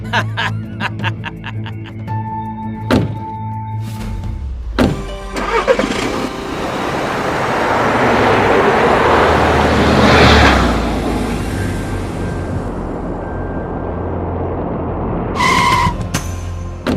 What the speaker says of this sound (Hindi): आ गया विवेक, चल बैठ जा गाड़ी में जल्दी।